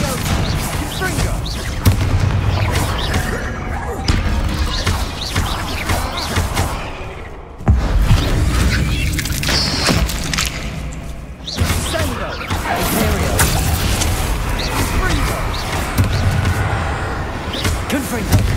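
Confringo blasting spell in Hogwarts Legacy fired repeatedly in a fight with spiders: dense, loud booms, bursts and crashing impacts packed together, with short pauses and voices over the din.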